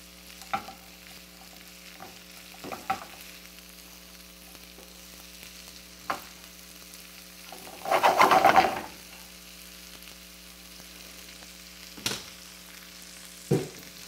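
Shakshuka ingredients fry quietly in a pan under a steady low hum, with occasional sharp knocks of a utensil and one louder burst of sizzling as something is stirred or added.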